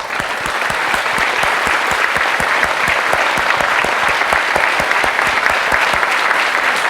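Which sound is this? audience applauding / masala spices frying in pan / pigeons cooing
audience applauding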